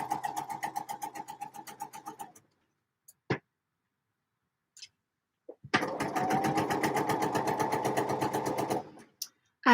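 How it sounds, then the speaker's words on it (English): A sewing machine stitches skirt pieces together in two bursts of rapid, even ticking, the first about two seconds long and the second a steadier three-second run after a pause, close and clear with no talk. "So I might sew these skirt pieces together"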